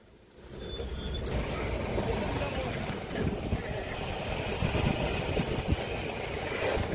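A motorcycle engine idles on the mountain road from Gangtok to Nathula. A low, steady rumble rises after a quiet half second and holds at an even level, with faint background noise around it.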